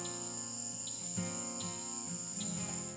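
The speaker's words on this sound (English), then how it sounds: "Those are cricket frogs. The clicking sounds like hitting marbles together." Cricket frogs call from a wetland pond in a dense chorus of clicking, set over a steady bed of high insect-like buzzing, with no voices.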